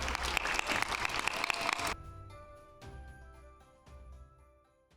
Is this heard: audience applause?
yes